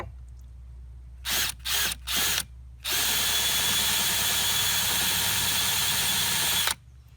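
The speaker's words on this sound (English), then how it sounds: "Start these holes using a 1/2 inch drill bit." A power drill with an older 1/2 inch bit bores starter holes beside a gangway hinge while a floating dock is installed: three short bursts, then one loud, steady run of about four seconds that stops abruptly.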